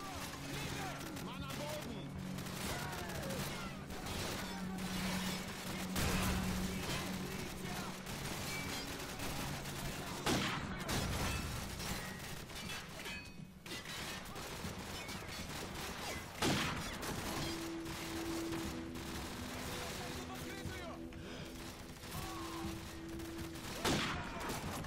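Gunfire in the first-person shooter Call of Duty 4: Modern Warfare, with bursts of shots and battlefield noise running under steady talk and game dialogue across the whole stretch.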